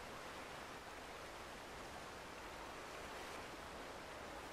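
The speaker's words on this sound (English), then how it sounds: "we're enjoying the rustly sound of the water" Water rustles steadily in the video game Red Dead Online, a soft, even, broadband stream-like wash with no breaks, quiet and without voices.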